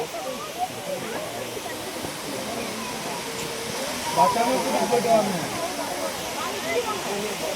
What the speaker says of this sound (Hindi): तो ये यहाँ का वाटरफॉल है